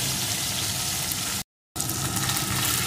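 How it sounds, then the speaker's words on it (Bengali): Small fish coated in salt and turmeric frying in hot oil, a steady, dense sizzle that runs close and loud, broken once by a brief dropout of silence before the crackling resumes. "মাছগুলো আমি সুন্দর করে ভেজে নেব।"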